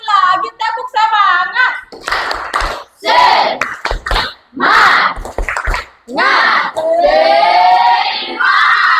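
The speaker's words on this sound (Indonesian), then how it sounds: "Sekali lagi tepuk semangat." A class of schoolchildren in a math lesson on integers doing a rhythmic spirit clap, bursts of hand claps alternating with loud children's chanting and shouting close by, with a teacher's voice leading.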